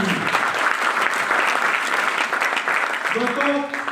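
Loud, dense applause from an audience at an AWPL business leaders' gathering, sustained steadily throughout, with a voice starting to come through near the end.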